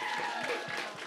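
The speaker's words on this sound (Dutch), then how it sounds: "Een heel groot applaus." Audience applause for women receiving second prize at a 2016 local talent contest in Eemnes, a brief, dense burst of clapping with a faint voice mixed in.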